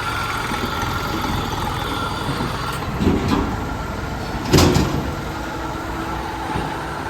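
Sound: car engine running

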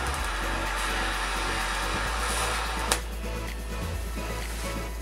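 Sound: arc welding steel with a welding rod

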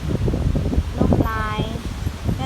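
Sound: dry wind blowing

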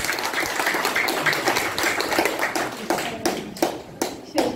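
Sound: audience applause

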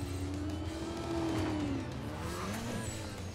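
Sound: Mitsubishi Lancer driving in video game Need for Speed Most Wanted

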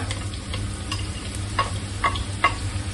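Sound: onion frying in hot oil in a pan

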